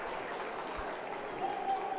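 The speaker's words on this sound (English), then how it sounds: "Everyone's just given both teams just being given a well-deserved round of applause here for putting on such a show tonight" Crowd applause for both teams at the close of an ice hockey game, a steady broadband wash of clapping that holds throughout and swells slightly near the end.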